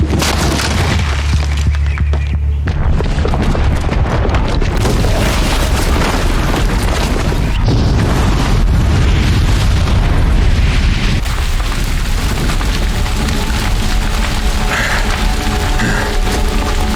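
A bomb set off by a booby trap explodes in a Horizon Zero Dawn cutscene, a loud, sustained roaring blast with rumbling debris and crashing that fills the whole stretch without letup.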